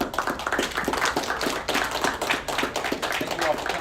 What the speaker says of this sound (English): I want us to give our panelists a big round of applause.